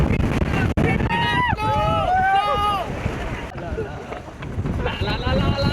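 Steady broadband wind rush and buffeting on a Suzuki V-Strom 250 motorcycle during a monsoon ride in the Western Ghats, loud throughout, with voices talking over it.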